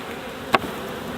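Honey bees in a first-year hive hit by small hive beetles in late summer give a faint, low buzzing hum, with one brief sharp flare of buzzing standing out.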